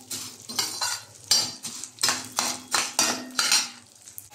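Ingredients being stirred while they fry in a pan for ginger pickle, with about eight rhythmic metal utensil scrapes and clinks against the pan over a light sizzle, close and fairly loud.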